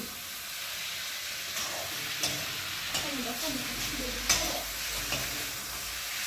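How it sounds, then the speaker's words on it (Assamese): Pork frying with capsicum in a pan makes a continuous sizzle broken by stirring scrapes and clanks, with a faint voice briefly in the background. "এইফালে আমাৰ বেটাই ভাজি বনাই আছে, গাহৰি।"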